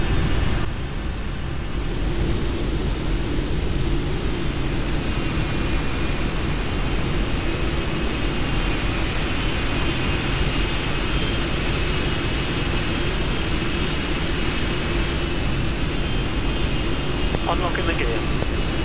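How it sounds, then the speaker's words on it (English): A Boeing 747-8 in the Prepar3D flight simulator idles with all four jet engines running, a steady, loud, broadband roar that holds unchanged for the whole stretch, with a voice talking over it. "4 engines are now up and running, and we can turn off the APU."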